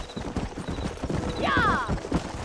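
A horse gallops in the Red Dead Redemption video game, with rapid, rhythmic hoofbeats close by and a brief whinny midway through.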